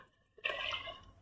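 Water is poured into a pot of white chickpea curry in a home kitchen, a brief, soft splash and trickle of liquid after a quiet start.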